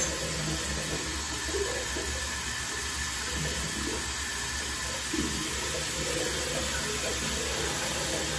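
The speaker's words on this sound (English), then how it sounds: "All right, let's go ahead and rinse off." Water runs steadily from a tap into a sink while someone rinses off after shaving with a Gillette Wilkinson Sword razor, a continuous close hiss with faint splashes.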